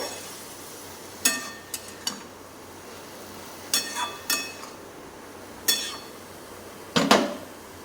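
Ladle scraping and clinking in a cooking pot while sugar is stirred into a pumpkin dish, sounding as about five short, sharp metallic knocks spread across the stretch over a quiet background.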